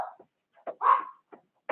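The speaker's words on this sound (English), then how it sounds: "my dogs are going ballistic" Dogs bark in short, uneven bursts indoors while workers are out in the yard, with several quick yaps and one longer, louder bark in the middle, heard moderately near with pauses between.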